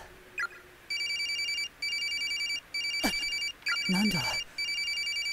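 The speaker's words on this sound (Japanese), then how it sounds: "着信してるのに写メ画像のままだ。 着信表示も出ていない、音だけが鳴っている。" A mobile phone rings in the horror video game Corpse Party, a bright electronic ringtone of repeating trilled bursts with short gaps, loud and close, while a voice briefly speaks over it partway through.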